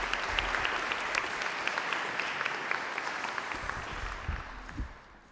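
Steady audience applause welcoming a speaker to the stage at the LSBF 2024 graduation ceremony held in a historic hall, a dense wash of clapping heard from a distance that tapers off toward the end.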